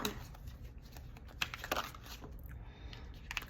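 Tarot cards are shuffled with soft riffling and papery flicks, quiet and close, with a few sharper snaps.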